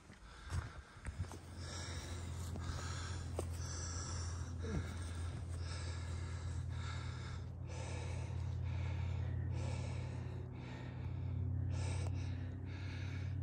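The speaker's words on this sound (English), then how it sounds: "Excuse my heavy breathing." Heavy, rhythmic panting from a hiker climbing a steep trail on the Appalachian Trail, close to the microphone with repeated breaths and gasps over a constant low rumble.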